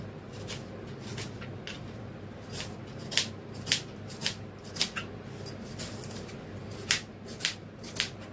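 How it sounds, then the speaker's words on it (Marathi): Onions are sliced lengthwise into long strips for a spicy chicken leg-piece curry, a series of crisp close knife cuts landing in an uneven rhythm over quiet kitchen background. "असे बघा लांबडे लांबडे कांदे घ्यायचे कापून."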